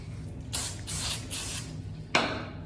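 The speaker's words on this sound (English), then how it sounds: "we'll just take some brake cleaner now with a clean rag" Brake cleaner sprayed from an aerosol can onto the front fork tube of a 2021 Honda CRF450RL motorcycle: three short hissing bursts close together, a pause, then one more sharp spray, close by.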